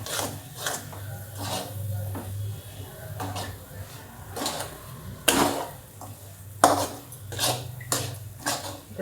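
Spoon scraping and tapping against a pan while mango burfi mixture thickens on the stove, in irregular soft strokes with occasional sharper clinks, a faint low hum underneath.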